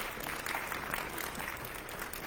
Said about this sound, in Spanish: Pues adelante, un aplauso, por favor,